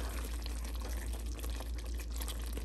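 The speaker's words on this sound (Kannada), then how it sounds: "ಸೊ ಈಗ ಒಂದು ಸ್ವಲ್ಪ ನೀರು ಹಾಕ್ತೀನಿ." Water poured into a simmering chicken-wing gravy makes a brief, continuous splashing rush, close and steady, with no voices.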